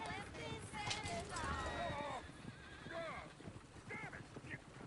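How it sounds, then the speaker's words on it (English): In the video game Red Dead Redemption II, horses whinny loudly several times over a steady clip-clop of hooves, with voices shouting over the commotion. "the horses! Damn horses!"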